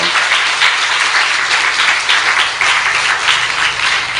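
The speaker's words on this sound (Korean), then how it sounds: "한번 뜨거운 박수 한번 하십시다" A church congregation at a Korean worship service gives loud, sustained applause, a dense, steady wash of many hands clapping together throughout with no speech over it.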